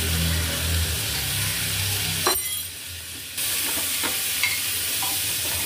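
Butter frying in a pan for a light Bengali chicken curry, a steady close sizzle with stirring scrapes; the sizzle briefly drops out about midway, then resumes, and there is no talk.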